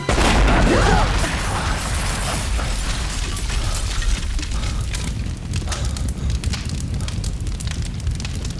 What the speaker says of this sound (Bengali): ওরা বোম বিস্ফোরণে মারা গেছে?